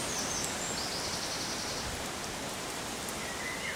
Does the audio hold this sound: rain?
yes